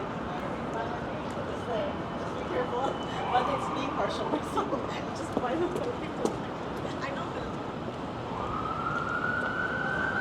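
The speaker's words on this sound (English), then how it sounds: "I thought that ambulance was coming here, but I guess it's going to another call" An ambulance siren wails from a distance amid downtown Toronto street noise and traffic, rising and falling over the busy background, with some talking nearby.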